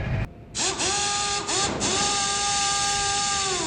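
Continuous loud mechanical whirring with rising and falling motor whines and clanks of truck repair in the mobile game Truckers of Europe, steady throughout with no talking.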